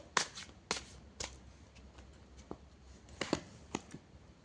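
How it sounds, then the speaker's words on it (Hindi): A deck of tarot cards being shuffled by hand, with several quick papery riffles and slaps in irregular bursts, close and fairly quiet. "तो हम कार्ड शफल कर लेते हैं सैजिटेरियस के लिए"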